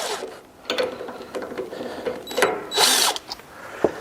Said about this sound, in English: a impact driver like this makes this job very quick and easy if you have one